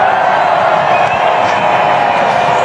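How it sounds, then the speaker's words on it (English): A sellout cricket crowd at a T20 international between India and Ireland, a loud, dense, continuous roar of cheering spectators. "we've got another sellout crowd to enjoy this wonderful occasion"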